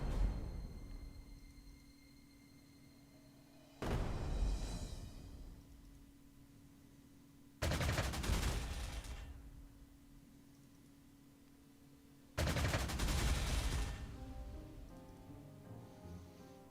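Artillery bombardment in the World War II strategy game Panzer Corps 2, with three separate booming, rumbling blasts a few seconds apart, each decaying into noisy rumble over a quiet background hum.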